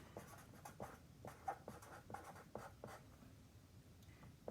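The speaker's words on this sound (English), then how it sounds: "Now I'm going to write a sentence." A sentence written by hand, a close, quiet sequence of short pen or pencil scratches and strokes in an irregular rhythm, with no voice.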